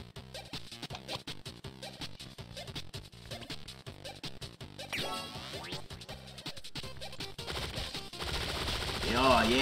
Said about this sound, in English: Oh yeah, fucking machine gun